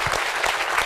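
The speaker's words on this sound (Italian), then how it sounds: "Un applauso per Fabio Aru" A short burst of audience applause at a sports journalism awards ceremony in Sardinia, loud and close, dense clapping with no voices over it.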